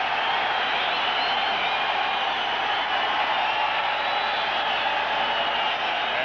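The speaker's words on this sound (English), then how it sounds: "And this crowd into it early." A steady roar from the home crowd at a 1994 New York Jets NFL game against Denver, loud and unbroken, like a broad wash of cheering filling the stadium.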